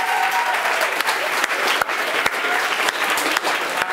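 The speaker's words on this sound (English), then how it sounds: "Big round of applause for Blythe Academy." An audience at a school awards ceremony claps continuously for a winning academy, a dense, even round of applause with a few sharper individual claps and no voices.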